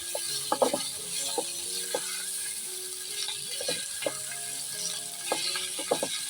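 Steady sizzling of boiled potatoes and spices frying in a pan, with intermittent scraping and clinking as it is stirred, fairly close and moderate in level.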